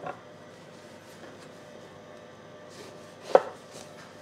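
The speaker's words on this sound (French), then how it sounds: "Dans un premier temps, nous allons couper les aubergines en deux." A knife slices aubergines in half for caviar d'aubergines, giving a few soft, quiet cuts followed by one sharper, louder knock against the board near the end.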